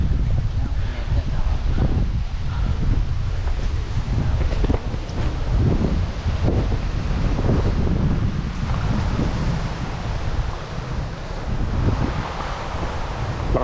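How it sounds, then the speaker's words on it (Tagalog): Strong wind roars steadily outdoors across a vegetable garden with bitter gourd and banana plants. The gusty, buffeting rush fills the whole stretch, with the wind battering the microphone throughout. "Masyadong malakas na hangin."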